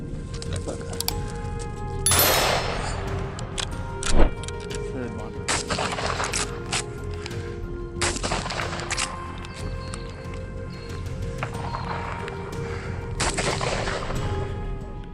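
Rifle shots ring out during a hunt for invasive animals such as feral hogs, several sharp loud cracks spread irregularly over the stretch, with a voice talking throughout and birds faintly in the background.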